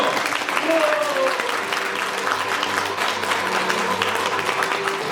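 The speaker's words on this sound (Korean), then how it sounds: "신랑 신부 입장 박수 부탁드릴게요" Wedding guests applaud as the bride and groom enter at a spring garden ceremony in Daegu, sustained steady clapping from a crowd, with a host's voice over it and music playing underneath.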